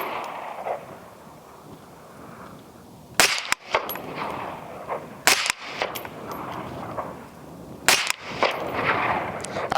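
Three spaced, loud shots from an IWI Carmel rifle at an outdoor range target, each a sharp crack with a short echoing tail, over a steady background of wind-like outdoor noise.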